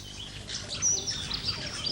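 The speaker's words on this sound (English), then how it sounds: "to a mecca of calling birds and croaking frogs" Birds chirping around a disused railway station at Castlemaine and Maldon, Australia, a few thin high calls at moderate distance over a quiet outdoor background.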